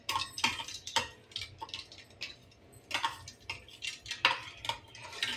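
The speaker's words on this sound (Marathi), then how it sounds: "आपण याला थोडा वेळ हे करूया, हलवूया आणि छानपैकी साखर विरघळून घेऊया" A spoon stirs sugar into a watermelon milkshake, clinking against the container in repeated, uneven strokes; the sharp taps come close and clear over a quiet, low background hum, with no talking.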